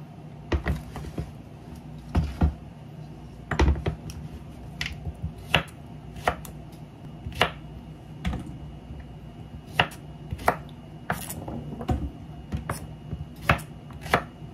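A knife chops okra and other vegetables on a board, giving a steady run of sharp, close, irregular taps.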